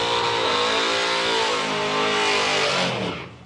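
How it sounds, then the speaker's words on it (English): A drag car does a burnout at a drag racing event, its engine revving hard in a loud sustained roar with rising pitch before fading at the end, heard alone without talking. "There will be a burnout below us in a moment."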